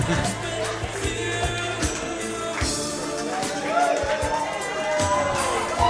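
A crowd at a live pro wrestling show at the Loco roars and murmurs steadily throughout, with sharp thuds and scattered shouts, sitting under a commentator's ongoing talk.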